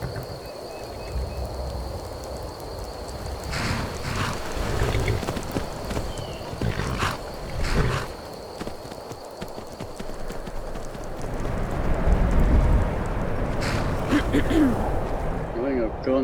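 Horse hooves clip-clop steadily in Skyrim, a close trotting rhythm that runs throughout at moderate loudness over ambient game background.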